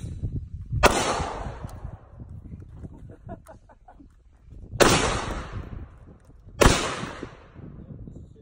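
Gunshots at a gun range: three loud, sharp reports spaced a few seconds apart, each with a long echoing decay and quieter background noise between them.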